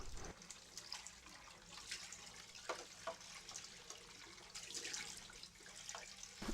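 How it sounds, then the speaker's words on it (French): Hot water runs steadily from a tap into a sink while a container is rinsed, a continuous splashing hiss with shifting spatters as the water strikes the vessel, fairly quiet and close. "le liquide est donc jeté dans le lavabo et le récipient est rincé entièrement à l'eau chaude"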